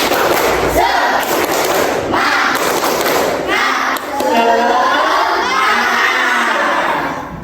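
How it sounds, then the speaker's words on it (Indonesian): A class of fifth-grade schoolchildren loudly shouting and clapping together in a spirit chant, bursts of voices and claps in waves, fairly close and energetic. "kita melakukan tepuk semangat, kita lakukan sama-sama"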